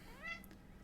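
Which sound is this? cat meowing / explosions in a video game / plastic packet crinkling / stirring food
cat meowing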